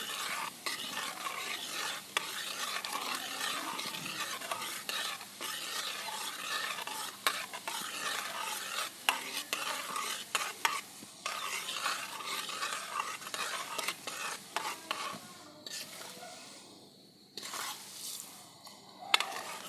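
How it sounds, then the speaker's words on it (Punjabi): Homemade amla hair oil being stirred in a pan, a steady scraping churn with faint sizzling that runs continuously up close before thinning out near the end. "ਇਸ ਤਰ੍ਹਾਂ ਆਪਾਂ ਹਲਾਈ ਜਾਵਾਂਗੇ"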